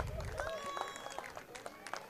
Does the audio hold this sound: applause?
yes